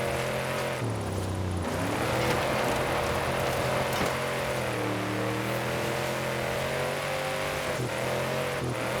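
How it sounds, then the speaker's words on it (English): A 1986 Ford F-150 pickup in Forza Horizon 5 drones and revs loudly and continuously in second gear, its pitch dipping and climbing as it drifts and slides, with no pauses throughout. "Definitely a second gear drift truck."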